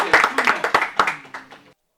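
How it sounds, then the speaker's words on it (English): Audience clapping at a Team Fortress 2 LAN tournament, poLANd.tf 2024: a short burst of energetic applause from a nearby crowd with distinct slaps, loud at first and dying away into silence, a little cheering mixed in. "The claps all around."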